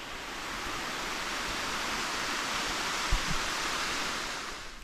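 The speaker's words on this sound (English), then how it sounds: "we're climbing up the waterfall, Jones Falls." Jones Falls on the Appalachian Trail in the Roan Highlands rushes as a loud, steady broadband roar of falling water, with a brief thump partway through.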